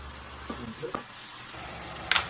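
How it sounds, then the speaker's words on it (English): Spinach being stirred in a frying pan makes a faint, soft sizzle with a few light scraping clicks. A brief louder scrape comes near the end. "mix it around so our spinach gets nice and evenly cooked"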